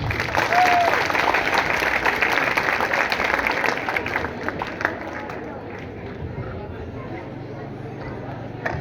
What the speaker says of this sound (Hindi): जोरदार तालियों से सर का आभार व्यक्त की